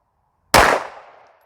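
A single loud gunshot from a Springfield Armory Echelon 4.0C compact pistol fired at a target on a range, a sharp crack with a short decaying echo, close up and alone.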